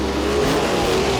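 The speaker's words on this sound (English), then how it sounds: "Coming to the white flag, Courtney led a 3-car freight train at the bottom, while Clausen ripped the ragged edge up top." Sprint cars racing on a dirt track roar past in a brief, loud burst of revving engine noise during Indiana Sprint Week, a dense mechanical drone without any talking.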